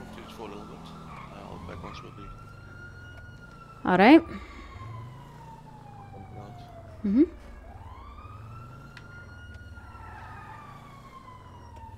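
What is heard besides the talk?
police sirens in the distance, from video game GTA roleplay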